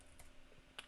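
A few soft keystrokes on a computer keyboard while entering a search for keyboard shortcuts in Capture One photo editing software, with one sharper, louder tap near the end against a faint background.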